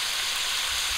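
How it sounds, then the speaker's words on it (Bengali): Pumpkin pieces frying in a pan with onion and green chilli, giving a loud, steady, close hiss of sizzling oil that runs unbroken throughout. "কুমড়োগুলো খুব ভালো করে ভেজে নেব।"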